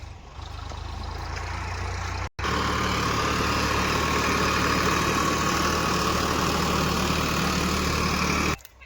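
A tractor engine idles in a cotton field with a steady, low, droning rumble that holds constant for several seconds, broken by one abrupt cut near the start.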